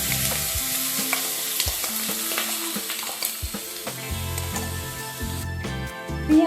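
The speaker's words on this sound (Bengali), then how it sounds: "এবার এর মধ্যে আমি ফাইন চপ করে কেটে রাখা 3টে মিডিয়াম সাইজের পেঁয়াজ অ্যাড" Three medium finely chopped onions added to hot oil with dried chilli tempering sizzle and crackle in a pan for mango-smoked chicken, partly under melodic background music.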